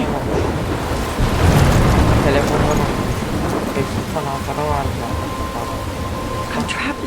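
Heavy rain pours with rumbling thunder during a storm in the Life is Strange video game, a dense, loud wash of noise with swells of low rumble, and a voice speaks faintly in places.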